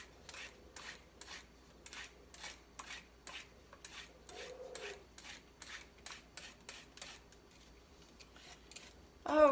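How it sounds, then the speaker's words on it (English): Carrots being peeled by hand with a peeler, a steady rhythm of about twenty short rasping scrapes close by, with a brief louder clatter at the end. "I always peel toward myself."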